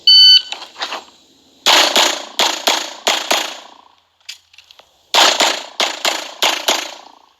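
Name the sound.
pistol shots from a Glock 45 in a USPSA match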